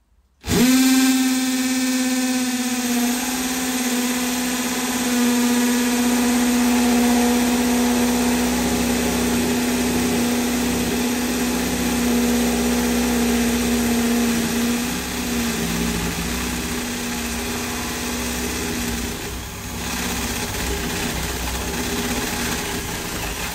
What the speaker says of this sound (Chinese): 现在开始从这面，然后打这个洞。